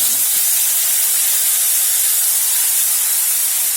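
Garlic and green chili paste hitting hot oil in a pan, a loud, dense, steady hiss of sizzling that holds at the same level throughout, close up, with no voices.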